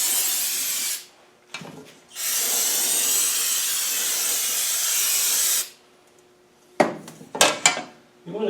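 A transfer case cover is spray-washed at close range with a loud, hissing jet: one short burst, then a long continuous spray of several seconds, followed by clattering metal handling sounds.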